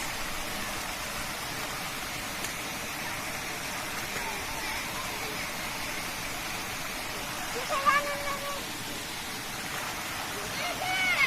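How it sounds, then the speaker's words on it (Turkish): Steady rushing water from a hidden waterfall near Balkaya village, Vize, Kırklareli, pours continuously nearby, a broad hiss, with brief voices partway through. "Saklı şelale deniliyor buraya arkadaşlar."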